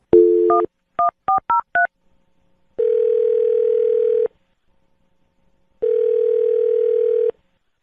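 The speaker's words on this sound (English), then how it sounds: "I'm going to dial this phone right now" A string of quick touch-tone beeps is punched in, followed by two long steady dial tones separated by a short silence; close and clear, no voices.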